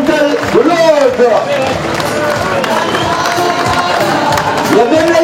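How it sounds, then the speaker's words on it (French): A crowd at a French senior doubles and women's singles petanque championship cheers and claps for the volunteers, loud mixed applause and shouting with voices throughout. "Allez, applaudissements pour tous les bénévoles"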